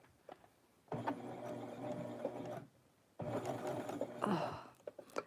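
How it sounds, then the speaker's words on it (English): An electric sewing machine stitches fabric for a retro Barbie doll blouse, running in two steady whirring bursts of about two seconds each, separated by a short quiet pause, close and moderately loud. "And let's start sewing."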